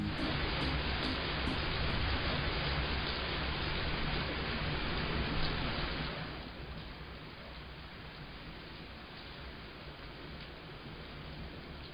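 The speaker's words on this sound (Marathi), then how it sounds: "हो सॉलिड पाऊस आहे पण आज." Heavy rain pours as a dense, steady hiss that is loud at first and then softens partway through, continuing evenly to the end with no voices.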